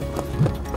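Horse hooves on a ride to the Belaragi tribal village, a single brief muffled thud standing out against steady low rumble.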